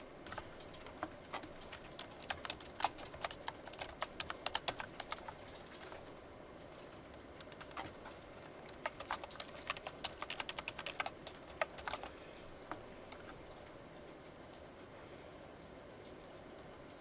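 Rapid clicks of a computer keyboard come in uneven bursts of typing separated by pauses, fairly quiet against soft room noise, with no talking.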